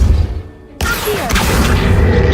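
A spell cast in the Hogwarts Legacy video game, the Accio summoning charm: after a quieter moment, a sudden booming burst gives way to a sustained loud rushing, crackling swell of magic.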